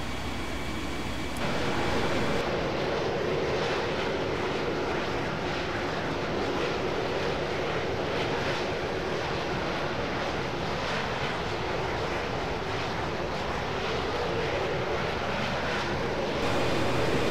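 The jet engine of an L-39 Albatross in FSX on landing approach gives a steady, loud, broad roar with a constant whine that holds evenly throughout, with no voices.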